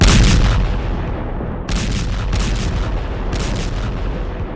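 Heavy blasts from bombs striking near Iran's Bushehr nuclear plant, a loud rumbling explosion at the start followed by two more booming impacts with crackling bursts, continuous low roar throughout.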